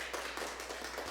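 Congregation applauding for Sister Francesca at a feast-day gathering in a monastery, a faint, dense patter of many hands clapping without pause and without voices, over a low steady hum.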